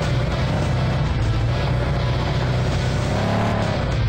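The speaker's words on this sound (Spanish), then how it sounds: "es algo emocionante poder correr sobre un avión amigos, nuestro carro deportivo y ahora vamos por el segundo avión" Sports car engine in the Ramp Stunt Car video game, driving across airplanes, a loud continuous roar with steady revving throughout and no pauses.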